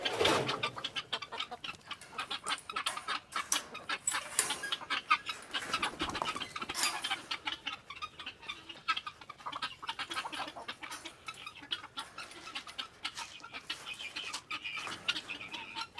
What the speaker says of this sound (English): Well, chickens are happy.